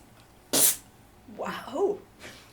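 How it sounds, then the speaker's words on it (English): A single sharp sneeze caused by pepper thrown in the face, loud and close, followed by a short stretch of speech and a fainter breathy sound at the end. "they keep throwing pepper in my face. Make me sneeze."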